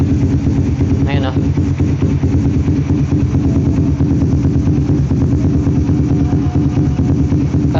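A motorcycle fitted with an Indo muffler and no silencer idles loudly and close, a steady throbbing drone throughout with a person talking over it.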